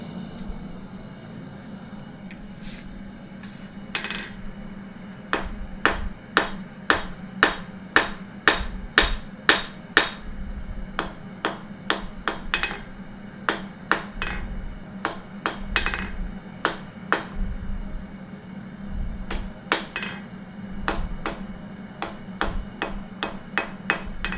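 Metal is hammered on an anvil in sharp, ringing strikes, with a fast rhythmic run of evenly spaced blows early on, then more scattered hits, all over a steady low background hum.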